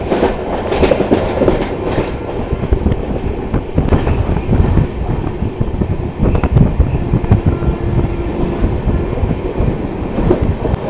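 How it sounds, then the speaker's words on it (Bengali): A new Amrit Bharat Express train runs from Sealdah toward Banaras past Dakshineswar station, with loud continuous rumbling and rhythmic clickety-clack of wheels on rails heard from on board. "এই মুহূর্তে আমার ট্রেন ক্রস করছে দক্ষিণেশ্বর রেলওয়ে স্টেশন"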